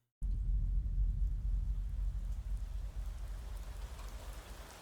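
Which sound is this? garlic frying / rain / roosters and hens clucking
rain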